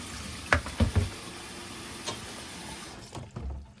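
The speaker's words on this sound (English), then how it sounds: "So that's why I'm running the cold water on it." Cold tap water running in a home kitchen over cooked fish, a steady hiss of flowing water broken by a few clinks and knocks, close, with no talk.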